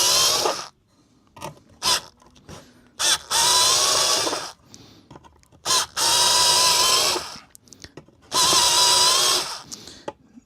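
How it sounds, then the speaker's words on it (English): A drill with a new countersink bit bores holes for an amplifier build, several close, loud bursts of whirring and grinding, each a second or two long, separated by quiet pauses. "This is a new countersink"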